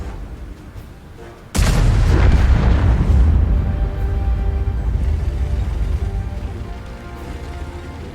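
A single heavy tank gun shot from World of Tanks hits with a sudden loud boom. A long rumbling decay follows as battle noise carries on underneath.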